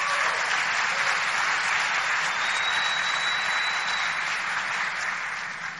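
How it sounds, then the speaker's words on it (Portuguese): Audience applause at a launch event for the Artistry line and Amway: a dense, steady wash of many hands clapping together, holding level throughout and easing off slightly at the very end. "Assim, um aplauso para Artistry e para Amway."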